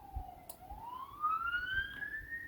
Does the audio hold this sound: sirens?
yes